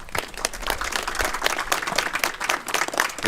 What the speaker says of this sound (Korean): 힘찬 박수 부탁드립니다